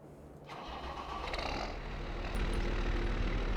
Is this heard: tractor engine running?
yes